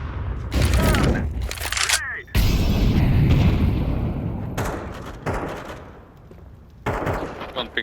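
Counter-Strike grenade explosions boom loudly amid gunfire and cracks, with a big blast rumbling for a couple of seconds and further sharp bursts after, while players talk over the action.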